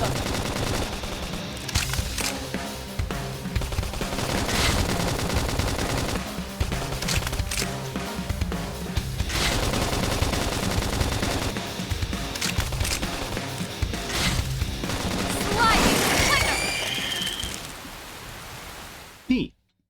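Rapid gunfire and combat effects from the video game Xenoblade X, dense and continuous across the scene, mixed with game music and spoken voices.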